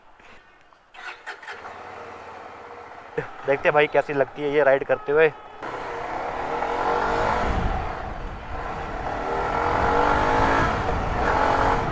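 A sports motorcycle, an Axor-helmeted rider's bike, starts with a few sharp bursts and then settles into a steady, loud rising engine drone as it pulls away, with someone talking over the start.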